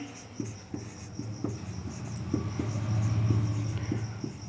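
Pen writing out a maths equation, a series of short, soft scratching strokes close by over a faint steady background hum, with no speech.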